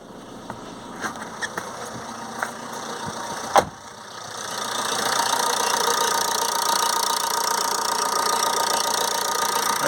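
Several light clicks and a sharp knock come first. A Ford Transit Connect 1.8 TDCi diesel engine then settles into a steady close idle with a buzzing clatter, right after starting following a low fuel rail pressure no-start fault.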